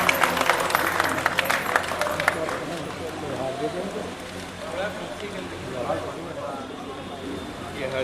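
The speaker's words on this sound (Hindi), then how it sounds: "ताली बजाएं आप लोग।" A crowd at a Lucknow pigeon-flying ceremony bursts into brisk clapping for a couple of seconds, then it fades under ongoing talking and crowd murmur.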